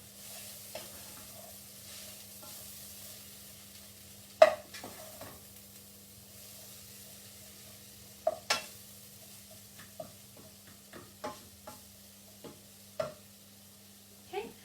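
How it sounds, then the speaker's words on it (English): A sweet potato quesadilla mixture with onions is stirred in a pan, producing quiet scattered scrapes and clinks of a utensil against the pan over a faint low hum, with some louder knocks spread out irregularly. "Give that a good mix."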